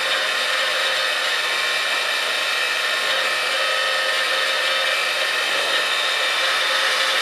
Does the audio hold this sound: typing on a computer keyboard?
no